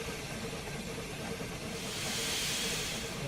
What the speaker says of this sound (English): The steam's coming out of there